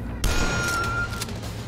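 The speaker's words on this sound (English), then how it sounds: "Yeah, assault rifle." Assault rifle fire in the retro shooter DUSK: a loud sustained burst of rapid automatic shots, close and harsh, running nearly two seconds over in-game music with a ringing tone.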